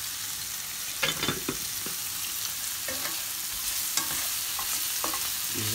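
Green plantain frying in a crowded pot while being stirred, with a steady sizzle of hot oil and a few scraping clicks from the spoon, fairly close and alone.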